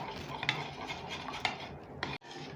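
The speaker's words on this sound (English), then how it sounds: "And now mix it all well." Egg yolks being whisked in a bowl for a no-oven custard layered cake, a steady scraping and clinking of utensil against the bowl with a few sharper taps, close and moderately loud, no talking.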